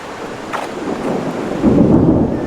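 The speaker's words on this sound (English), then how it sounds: "Lightning like that in the jungle?" A jungle thunderstorm near the Guatemala border rumbles with low thunder that swells toward the end, mixed with wind buffeting the microphone and a steady wash of rain.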